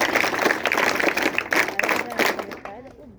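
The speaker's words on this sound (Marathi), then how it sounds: "मला टाळ्यांचा पाऊस तर झालाच पाहिजे" An audience claps loudly in a dense burst of applause at a National Science Day event, fading out after a few seconds, with voices mixed in.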